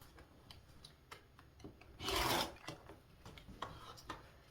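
Quilt fabric is cut along a ruler: a quiet, close rubbing and scraping with one louder swishing pass of about half a second midway, then light handling noises.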